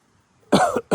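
A person coughs twice in quick succession, close and loud after a near-silent start. The first cough is longer and the second is short and sharp.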